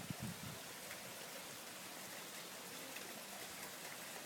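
Heavy rain pours down in a dense, steady hiss that fills the whole stretch evenly, with no voices.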